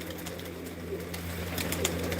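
Pigeons coo softly in a hobbyist's loft, a few faint throaty calls scattered over a steady background hum, with light fluttering clicks and no talk.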